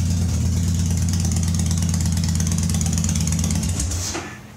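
Victory motorcycle with an Arlen Ness Big Honkers exhaust idling close by, a steady deep burbling rumble that holds evenly, then fades out at the end.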